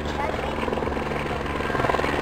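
A Eurocopter AS350 helicopter in a demonstration flight at a European helicopter show gives a steady, loud rotor thrum and turbine whine with rhythmic blade pulsing, with a voice narrating over it.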